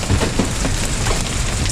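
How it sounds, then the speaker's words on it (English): Golf-ball-sized hail pours down steadily outside a house, a dense, continuous clatter like heavy rain with scattered sharper knocks of stones striking surfaces, loud and unbroken throughout. "that's pretty good size hail as the size is coming down."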